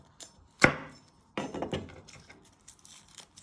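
A knife chopping the ends off a garlic clove on a cutting board, one sharp close cut followed by a short burst of cutting and board knocks, then quiet.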